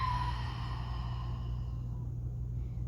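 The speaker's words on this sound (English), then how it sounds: "Audible exhale out." One soft, drawn-out breath is pushed out audibly during a calm yoga neck stretch, close to the mic and fading over a couple of seconds over a low steady hum.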